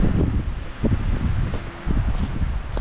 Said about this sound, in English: Oh, it's so cold and windy.